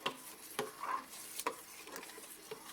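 Apple butter being stirred in a pot with the fire turned off, giving soft scraping strokes and thick, wet stirring sounds repeated at an irregular pace, close and fairly quiet.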